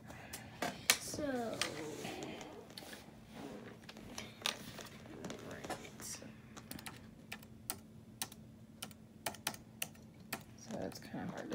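Rapid, irregular clatter of keys being typed on a computer keyboard, close by, with a few louder taps and some faint background voice early on.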